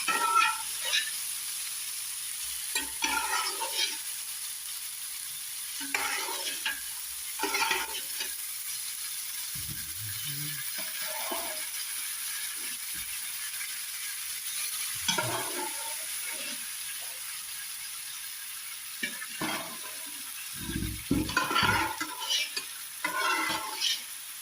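Beef being stirred and fried in a pan for an Indian recipe, a steady hiss with repeated scraping stirs throughout, close and fairly loud.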